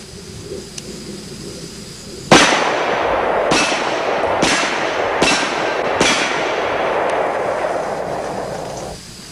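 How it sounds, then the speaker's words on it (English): Five sharp shots from an AMT Automag II .22 Magnum pistol are fired at steel plates at an outdoor range. The reports crack out at irregular intervals roughly a second apart over a steady roar of background noise. "So let's shoot some steel plates with this AMT Automag"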